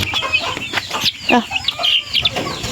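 Chickens cluck and squawk up close in a rural yard in Isabela, several birds calling in irregular bursts over faint background noise, with a brief human exclamation.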